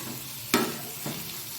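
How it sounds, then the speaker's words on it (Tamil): Onions sautéing in a pan for an evening snack, a soft steady sizzle with two brief scraping stirs, one louder and one fainter, and no talking. "ஓரளவு மீடியமாக வதங்கினா போதும் வெங்காயம்"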